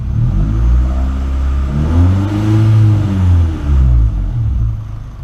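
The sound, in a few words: engine revving to 3,000 RPM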